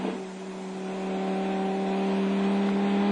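A race car driven by Olivier Beretta on a circuit lap, running through a new section past the Porsche corner, with a steady engine drone that climbs gently and grows louder throughout, no voices.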